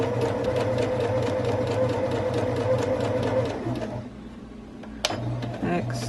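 Sewing machine stitching a face mask, a fast rhythmic mechanical whir running steadily for about four seconds, then stopping, with a short click and a voice afterward.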